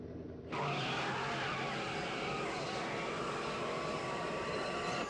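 Time-machine car in a Back to the Future video game roaring up to 88 mph: a sudden loud engine surge after a quiet start, holding a steady, dense roar with a high whine to the end.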